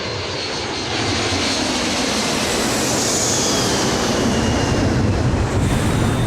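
Airliner engines roaring in a steady, loud, continuous broadband rush during an emergency descent after explosive decompression, with a ruptured airframe and a badly damaged right wing and engines on United Airlines Flight 811.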